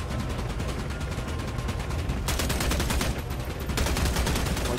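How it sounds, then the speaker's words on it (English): In a video game, a light machine gun fires long sustained bursts, rapid evenly spaced shots in a dense, loud, unbroken stream with brief shifts in intensity. "there's an LMG in the game"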